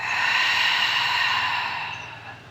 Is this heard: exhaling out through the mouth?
yes